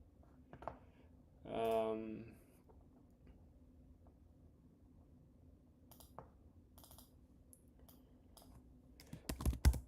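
Typing on a computer keyboard comes as faint, scattered key clicks in a quiet room, with a short burst of speech early on and a cluster of louder taps near the end.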